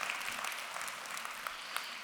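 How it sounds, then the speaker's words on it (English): Audience applause, a soft, even wash of clapping that holds steady for a short stretch with a few slightly sharper claps. "let's give a round of applause to these stories that have been shared this morning"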